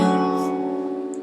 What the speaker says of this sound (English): Alright, your first chord, which I'm going to refer to as chord 1 throughout this video, sounds like this.